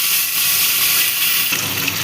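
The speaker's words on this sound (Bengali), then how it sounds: "তেলটা গরম হয়ে গেছে, এবার এর মধ্যে দিয়ে দিচ্ছি মাছগুলোকে" Katla fish dropped into hot mustard oil and frying, a steady broad sizzle and hiss that swells louder partway through, close and alone with no talk.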